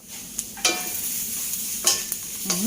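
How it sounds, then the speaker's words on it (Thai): Chilli and fermented fish sauce dry-roasting in a pan, with a continuous hiss under sharp intermittent scrapes of a spatula against the pan, close and moderately loud. "น้ำงวดแล้วนะจะคั่วต่อไปนะคะ ให้ของทุกอย่างเกรียมๆจะได้หอมๆนะคะ"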